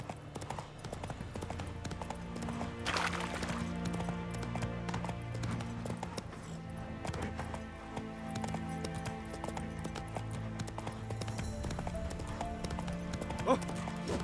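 Roach, a horse in a video game, gallops with a fast, steady clip-clop of hooves, joined by a brief neigh, game music and voices speaking over the hoofbeats.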